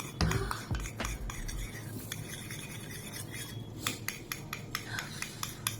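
Hair colour is mixed in a bowl at home, making continuous close scraping and rubbing strokes with a few sharper clinks, steady and fairly quiet, with no talk.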